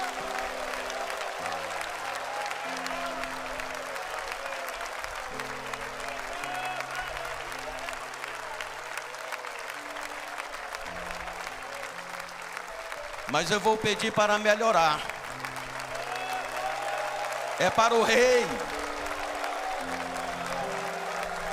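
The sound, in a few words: congregation applauding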